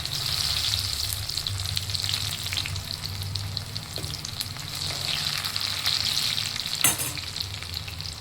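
Finely chopped shallots fry in a pan for a razor moonfish curry, giving a steady, close sizzle with light stirring scrapes and one brief louder clatter near the end.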